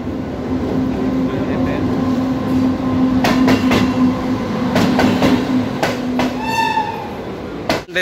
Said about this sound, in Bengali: আমাদের ট্রেন কিন্তু চলে আসছে।